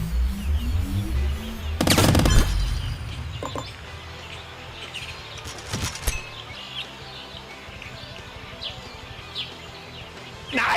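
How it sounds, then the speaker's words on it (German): An Uzi fires in the video game Squirrel with a Gun: a loud rapid burst of automatic shots, then a few isolated cracks later, over busy game ambience with chirping birds and scattered effects. "Ist das unser Uzi? Ja, das ist unser Uzi."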